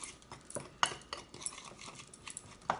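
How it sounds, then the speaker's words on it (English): A utensil stirs a homemade all-natural air freshener mixture in a container, giving repeated close clinks and scrapes against the sides in an uneven rhythm, with no voices. "So again, I'm gonna stir that up."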